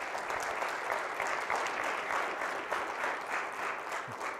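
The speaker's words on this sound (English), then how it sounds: "All right, let's give Mike Hamra a round of applause." A lecture audience gives sustained applause for a speaker at a business ethics lecture evening, with dense, even clapping from many hands that fills the room for several seconds without pause.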